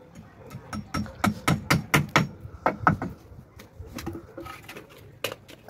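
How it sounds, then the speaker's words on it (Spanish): Nails are driven by hammer through short wooden beams into boards: a rapid run of sharp, loud, close blows, then a pause and a few more scattered strikes toward the end. "con unos pedazos de polines de 70 centímetros lo voy a clavar encima de los barrotes"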